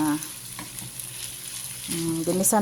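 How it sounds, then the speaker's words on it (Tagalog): Garlic longganisa sausage sautéing in butter gives a steady close sizzle with faint stirring scrapes, and a brief tonal clatter toward the end. "Ginisa ko na siya sa butter."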